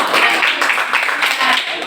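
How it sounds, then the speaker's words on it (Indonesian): Students in a classroom break into brisk, dense clapping that stays steady and loud for a couple of seconds, with voices mixed in. "Tepuk tangan dong. Tepuk tangan."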